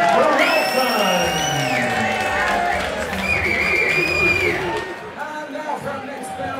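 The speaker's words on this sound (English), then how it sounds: "Once again, a massive round of applause to Charlie Razor Railton." A crowd at a white collar boxing event in London cheers and applauds loudly, with whoops and shouts rising over steady clapping, while an announcer's amplified voice talks over the noise before it thins toward the end.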